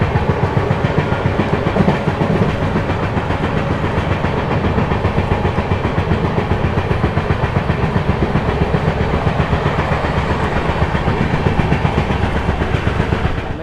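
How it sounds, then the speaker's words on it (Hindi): An Indian Railways train, the Brahmaputra Mail, passes close by at speed with a loud, steady rumble and a rhythmic clickety-clack of wheels over rail joints, heard alone without voices. "ये देखिए सामने से जा रही है ब्रह्मपुत्र मेल।"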